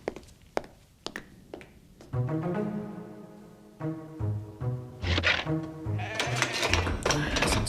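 Cartoon mutant sheep bleating in a series of drawn-out calls, preceded by a few sharp taps and thuds, the bleats growing louder and denser toward the end.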